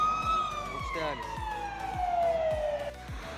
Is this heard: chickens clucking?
no